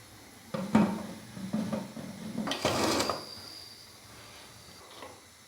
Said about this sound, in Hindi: अभी मैं इसके ऊपर प्रेशर कुकर का जो ढक्कन है वो लगा दूंगा।